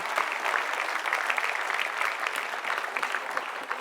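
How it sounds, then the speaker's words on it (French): Audience applauding the youth exchange students, a sustained, even patter of many hands clapping at moderate volume throughout. "On peut les applaudir, Camille, Kaylee et l'ensemble des jeunes de cet échange."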